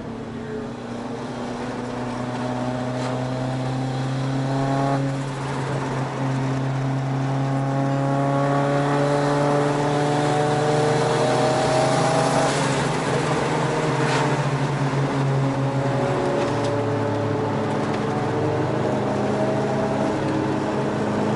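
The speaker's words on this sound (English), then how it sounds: "You guys can hear that turbo spool." A car's turbo spools up and down in rising, whistling sweeps over a steady engine drone. The whine climbs repeatedly through the run, close and fairly loud, with no talk.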